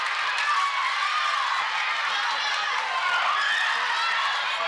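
A dense basketball crowd cheers and roars steadily throughout a girls' high school game, loud and continuous, with a commentator's voice talking over the noise.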